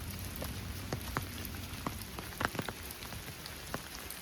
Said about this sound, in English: Raining a bit heavier now.